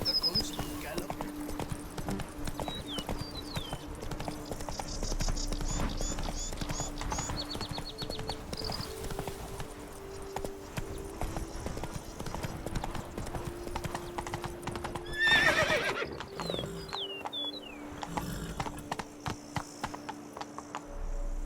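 Geralt's horse gallops in The Witcher 3: Blood and Wine, giving rapid, steady hoofbeat clip-clops throughout with a brief whinny, over game music and ambient effects.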